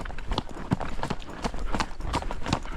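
Shod horse hooves strike a stony, pebbly mountain path in a quick, steady clip-clop, close and clear, with no one talking over the hoofbeats.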